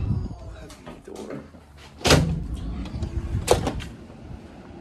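A heavy door is pushed open early in the morning, giving two loud broadband thumps and clunks at about 2 and 3.5 seconds over faint background noise and movement.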